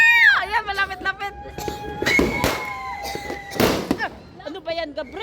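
New Year fireworks whistle and pop around people talking excitedly, with a few sharp crackling bursts and rising whistles between the voices.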